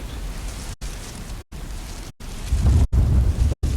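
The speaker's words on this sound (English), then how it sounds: "there's just rain in the background" Steady heavy rain with a deep rumbling roll of thunder swelling toward the end fills a stormy scene in Tomb Raider Underworld on Xbox, broken by several abrupt dropouts where the game sound cuts out.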